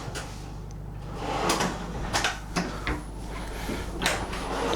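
Deep storage drawers aboard a VICEM 82 Classic motor yacht being opened and closed: a few soft, close sliding knocks and thuds over a steady low onboard hum, with no talking.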